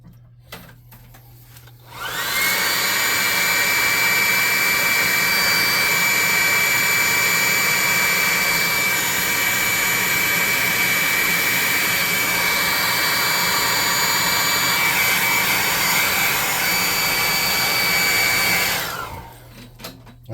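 A hair dryer or heat gun blows steadily on wet paint coating a model tree for a tabletop RPG treant. The loud, close, continuous whir starts after a short pause, runs about seventeen seconds and then cuts off.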